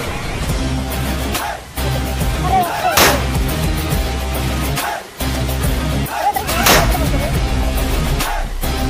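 Loud Diwali firecracker blasts go off in sharp bursts, a few seconds apart, over constant noisy background rumble.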